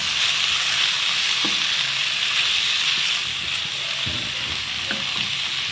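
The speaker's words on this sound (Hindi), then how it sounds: "कीमे को प्याज के साथ थोड़ी देर हमने ऐसे पकाना है।" Minced meat, or keema, cooking with onions in a pan for a spaghetti meat sauce: a loud, steady frying hiss throughout, with occasional soft stirring knocks.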